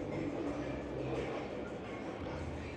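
Riding aboard the Detroit People Mover, an elevated automated train, with a steady, close rolling rumble and hum of the car in motion throughout, with no voices.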